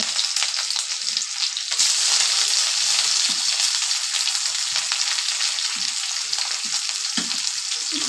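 Onion, garlic and green chilli fry in hot oil for an egg and potato chorchori, making a loud, continuous sizzle with occasional stirring scrapes and no voices.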